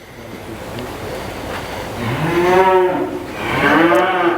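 Cattle being worked and moved in a pen moo loudly and nearby, two drawn-out bellowing calls rising over a low, steady background rumble.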